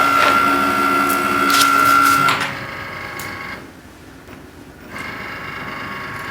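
A Cricut cutting machine cutting a vinyl logo whirs and clicks mechanically with a steady tonal whine. It then drops to a quieter, uneven hum before the motor picks up again, close and fairly loud.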